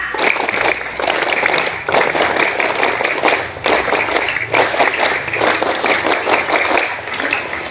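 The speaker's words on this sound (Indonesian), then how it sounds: "kita tepuk pramuka dulu. Tepuk pramuka." Pupils performing the scout rhythmic clap, loud close bursts of many hands clapping in a patterned rhythm, grouped into repeated phrases with short pauses between them.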